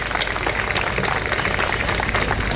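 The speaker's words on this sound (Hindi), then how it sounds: "इसके लिए तो डीएफसी टीम के लिए एक बार जोरदार तालियां बनती है" Dense, steady audience applause at a DFC alumni talk show, a loud continuous wash of many hands clapping with no pauses and no voices.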